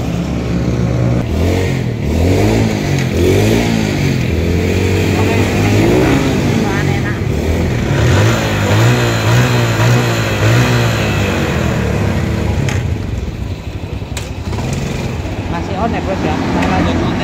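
A used motorcycle engine at a dealer revs steadily through its gears, loud and close, with a constant mid-pitched drone. People talk over it.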